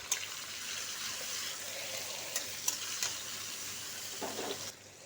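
Chopped tomato and green chilli fry in a pan with a soft, continuous sizzle, broken by a few sharp clicks and stirring scrapes near the end, with no voices.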